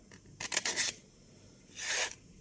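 A dosimeter's plastic carrying case is flipped open and snapped shut by hand, giving a quick cluster of rubbing, clicking scrapes followed by a second brief scrape, close and fairly quiet.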